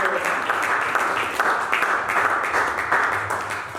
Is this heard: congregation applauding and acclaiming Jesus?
yes